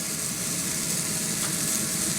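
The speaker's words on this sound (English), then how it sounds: "now I'm going to add the cheese sticks in and the olives at the end" Cheese sticks and olives dropped into a hot pan, giving a steady, even sizzle that fills the moment without any break, close up and moderately loud, no voices.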